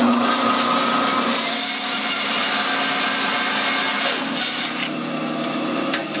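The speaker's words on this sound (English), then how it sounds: "we'll use this to cut off the uh, uh sections of the toothpick holder" Sawing through sections of a wooden toothpick holder, a steady, loud rasping cut that runs continuously, easing slightly near the end with no talk.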